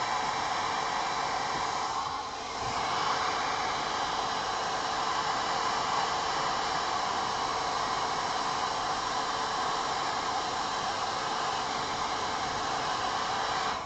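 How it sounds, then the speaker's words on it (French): A hair dryer blows steadily on a painted Star Wars Legion Endor speeder miniature, producing a close, continuous rushing hiss that dips briefly once before carrying on unchanged. "on va mettre encore un coup de sèche-cheveux"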